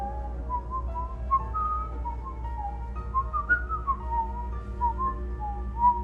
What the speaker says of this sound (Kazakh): Кэмили Mickey Mouse сияқты ысқыра бастайды